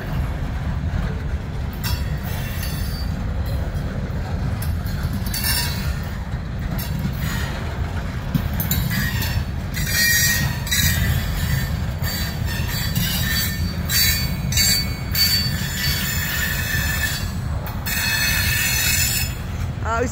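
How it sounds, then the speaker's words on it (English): A freight train rolls by continuously, its wheels squealing and grinding over a heavy low rumble, loud and close. "Train. We've been following some long trains lately."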